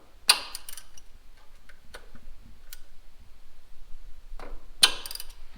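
A ratchet loosens the supercharger pulley belt on a Whipple-supercharged SVT Cobra in a garage. Sparse, quiet clicks and small metallic ticks are heard, with two sharper, louder bursts near the start and the end.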